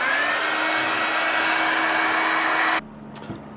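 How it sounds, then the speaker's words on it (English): A heat gun blows loudly and steadily for almost three seconds as a crafted piece is dried, then cuts off abruptly, leaving a faint hum and a small clack. "I'll get a heat gun, get my heat gun and dry it"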